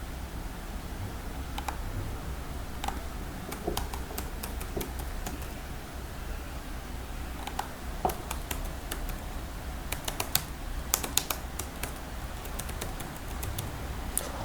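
Rapid irregular clicks of a computer keyboard as contact details are typed into an online LIC insurance policy form, light taps scattered over steady low background hum with no talk.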